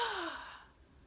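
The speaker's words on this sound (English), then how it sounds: "you don't actually want to hear your breath. So you don't want it to sound like this." A single loud, breathy inhale drawn in sharply as a demonstration of noisy breathing during musical performance, strongest at the start and trailing off within about a second.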